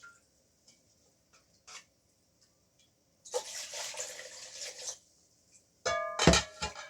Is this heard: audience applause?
no